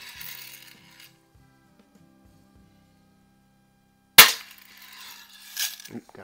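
A 1933 Daisy No. 195 Buzz Barton Special BB gun fires one crisp, close snap after a few soft mechanical clicks and handling noises, followed by a fainter rattle.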